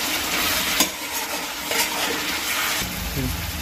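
Chicken mirchi masala sizzles in a pan on the stove while being stirred and mixed, a loud steady frying hiss broken by scraping strokes of the spoon, with no talking.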